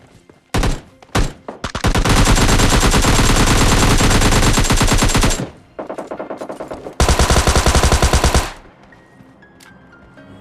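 Close, loud automatic gunfire from PUBG: a few short bursts, then a long sustained rattle, a pause with fainter shots, and another hard burst before it cuts out.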